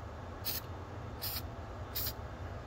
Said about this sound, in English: I give a little spray